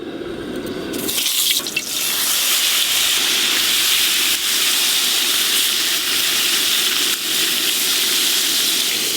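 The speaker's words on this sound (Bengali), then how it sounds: "এবার লবণ, হলুদ, চিনি মাখানো বেগুনগুলো ভেজে নেব" Salted eggplant slices coated with turmeric and sugar hit very hot oil on a gas stove, setting off a sudden loud, steady hiss and crackle that continues strongly, up close, with no talk.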